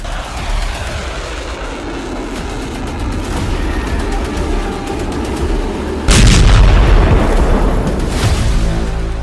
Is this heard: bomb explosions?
yes